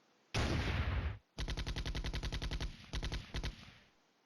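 Rapid bursts of automatic gunfire from the wargame Flashpoint Campaigns: Red Storm, one long roar followed by a steady stuttering run of loud, evenly spaced shots with a few brief pauses, no voices.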